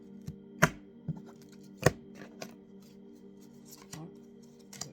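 A deck of oracle cards is cut and handled at close range in a quiet room, giving a series of sharp papery snaps and slaps at irregular intervals over a low steady hum, with no talking.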